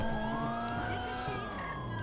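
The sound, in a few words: police car siren in a video game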